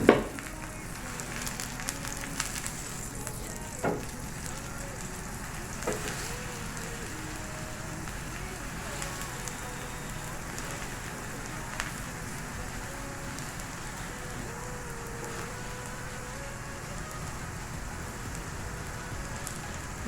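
Pea-stuffed roti fries in a pan with a soft, continuous sizzle and faint crackles, close and steady throughout.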